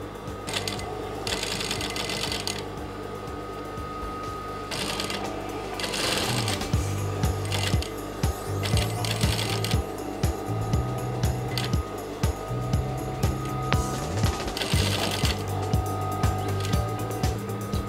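A sewing machine stitching the seam allowance edges of a danshiki, close and loud, with a steady motor whir broken into repeated bursts of rapid needle chatter as the stitching starts and stops.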